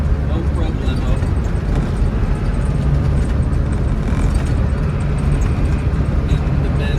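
A 1992 Land Rover Defender 110 with a 200Tdi diesel and a worn transmission pulls uphill in 4th gear at about 40 mph, giving a steady, loud, close rumble of engine and road noise that continues without a break.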